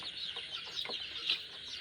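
Young chicks, some with small tufts on their heads, peep and cluck in a thin, high chatter that runs steadily through the clip, with a few sharper calls standing out.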